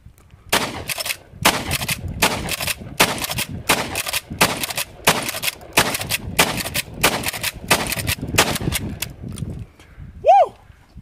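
Gunfire with rounds in rapid bursts, roughly a dozen loud sharp volleys spaced about half a second apart, close and dominant, ending with a brief whoop near the end.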